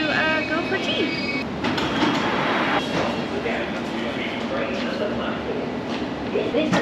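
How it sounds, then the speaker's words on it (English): Steady rumble of a London Underground train standing at Westbourne Park station platform, with mechanical clatter, hiss and faint voices throughout. "Mind the gap between the train and the platform."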